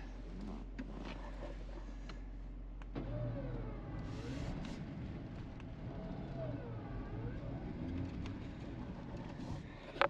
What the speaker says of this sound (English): As soon as I feel like the winch is really loading up, I'll just touch the gas a little bit.